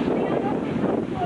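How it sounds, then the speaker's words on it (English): Steady wind buffets the microphone on the Kaanapali shore in Maui, a constant close roar with no distinct breaks over the brief moment. "Windy day."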